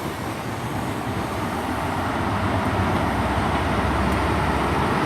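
A High Speed Train with power car 43378 arriving at Torre from Paignton, bound for Glasgow Central: a steady, loud rumble of engine and wheels that swells gradually as it draws near, with no talk.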